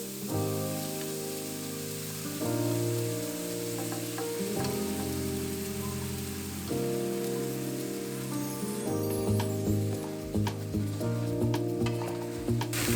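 Coconut milk for shrimp curry simmering and sizzling in a pan, a dense crackling fizz over a steady bed of bubbling, with soft stirring clinks and no talk.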